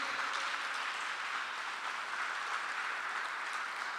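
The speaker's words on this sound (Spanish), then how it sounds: "Si ese aplauso fue para el Señor, dáselo más fuerte." A church congregation applauds in a steady, broad wash of clapping that holds for several seconds, moderately distant and without talk.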